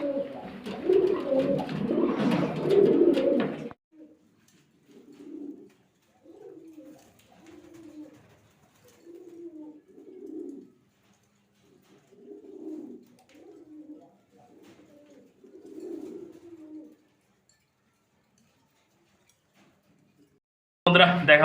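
Soft, repeated coos from pigeons at close range, a series of low throaty calls in short bursts after someone speaks in Bengali at the start.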